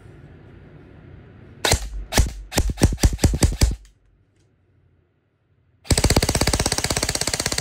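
A Krytac Rec7 Barrett Carbine 15-inch airsoft gun is test fired nearby. A quick string of sharp snapping shots is followed by a brief silence, then a rapid, continuous automatic burst.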